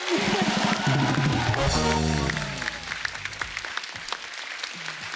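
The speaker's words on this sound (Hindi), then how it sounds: "नोरा के लिए खुल के तालियां होनी चाहिए पहले तो" Studio audience applause at a televised comedy show, a loud dense burst of clapping that swells early then thins out, with some voices and musical tones mixed in.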